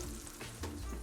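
Butter sizzling in a very hot pan while a sauce is made for chicken and grapes, a close, steady frying hiss with faint crackles and a brief stir partway through.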